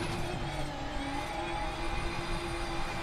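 Drift car engine at Mantorp Park race track during a drift battle, a distant droning whir with shifting revs heard from inside a small building, steady and muffled.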